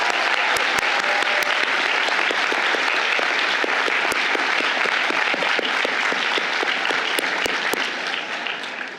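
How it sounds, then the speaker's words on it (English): Commencement audience at Georgetown University Law Center's 2022 graduation giving a loud, sustained round of applause with a few sharp individual claps, fading slightly at the end. "So another round of applause for Cheryl and I."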